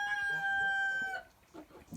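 Chickens cluck nearby among brooding mother hens and chicks, with a drawn-out tonal call at first followed by softer scattered clucks and murmurs.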